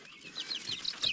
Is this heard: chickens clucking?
yes